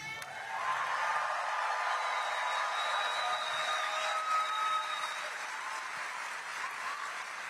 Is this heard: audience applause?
yes